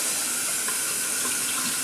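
Water runs from a kitchen tap in a steady, close hiss while red beans are rinsed, with no break in the flow.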